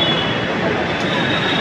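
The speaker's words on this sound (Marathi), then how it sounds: "अंडरग्राऊंड मेट्रोनी." Mumbai's underground Aqua Line 3 metro between Marol Naka and Santacruz gives off a loud, steady, broadband rumble and hiss of a train running through a tunnel, unbroken throughout.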